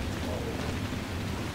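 Steady rain from a thunderstorm in the game Dragon Age Inquisition, a dense continuous hiss with a low rumbling undertone that holds evenly throughout, no voices present.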